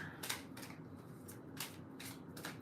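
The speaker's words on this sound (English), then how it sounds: "I already shuffled, but I'll do a quick shuffle again." Tarot cards are given a quick shuffle, a few soft riffling bursts up close against a quiet room hiss.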